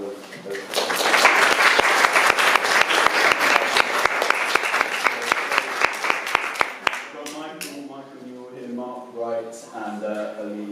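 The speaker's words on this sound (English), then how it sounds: "So if we could have a round of applause for my panel of" A live audience at an art talk bursts into dense applause for a discussion panel, loud and sustained for about seven seconds with a few sharp individual claps, then fades as a speaker begins talking.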